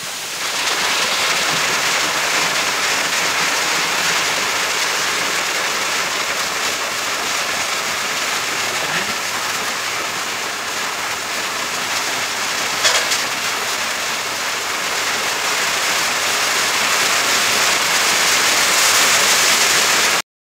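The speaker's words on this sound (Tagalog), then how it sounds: "Tingnan natin kung umuulan pa sa labas" Steady rain pours outside a house during a typhoon, a dense even hiss of drops on surfaces that holds at a loud, constant level throughout with no voices.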